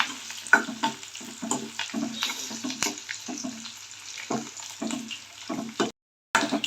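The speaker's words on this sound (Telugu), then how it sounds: "పచ్చి కరివేపాకు కాబట్టి చిట్లుతాదండి" Fresh curry leaves splutter and crackle in hot oil on a gas stove, a dense run of irregular pops and sizzling bursts, close and steady, with a brief silent gap near the end.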